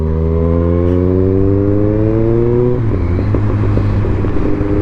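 Kawasaki Z900 motorcycle engine roaring loudly up close on a mountain ghat road, a sustained revving drone that climbs steadily in pitch, then dips and settles into a rougher, throbbing rumble.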